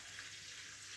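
Fish fillets fry in a pan, giving a steady, even sizzle throughout, with a brief louder clatter right at the end.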